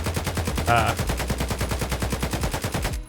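An AK rifle fires full-auto in Escape from Tarkov, a fast steady stream of close, loud shots in even rhythm that stops abruptly at the end.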